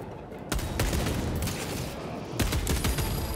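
Rapid gunfire in the video game Space Marine II comes as dense, loud bursts of shots, with a short pause before another sharp volley near the end.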